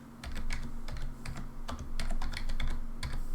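Computer keyboard keys clatter in quick, uneven bursts of close, crisp clicks while code is typed, steady and alone without any voice.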